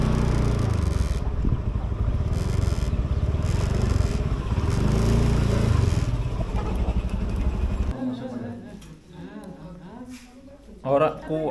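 A motorcycle rumbles along a damaged road in Guci forest, Tegal, its engine loud and close for several seconds before dropping away as voices talk.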